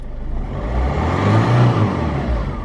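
A Ford Fiesta Mk6 Zetec S with a 1.6 TDCi diesel engine revs up and holds a steady, loud drone before easing off slightly, heard close by with no talking.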